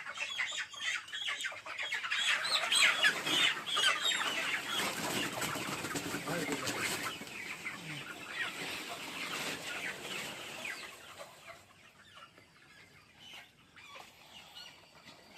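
A flock of about twenty farm chickens being sold clucks and squawks in a busy, overlapping chorus, loud at first and thinning toward the end, with occasional voices in the background.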